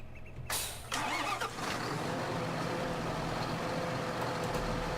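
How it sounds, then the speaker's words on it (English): A tractor engine in the farming video game Farming Simulator 2013 cranks briefly, catches and settles into a steady, even running rumble that continues to the end, with no speech. "we're going to get us a tractor"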